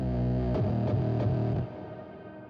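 Song with an industrial sound: dense, distorted, loud instrumentation with rhythmic hits, thinning out toward the end.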